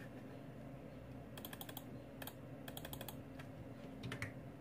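Typing on a computer keyboard during an iPhone 6s Plus backlight repair, heard as short bursts of quick, fairly close key clicks with pauses between them over a low steady background hum.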